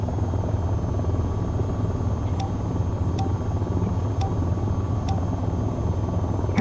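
Steady, close engine drone of an AH-94 attack helicopter in the flight game VTOL VR, continuous rotor and turbine hum with faint periodic ticking tones over it and no speech.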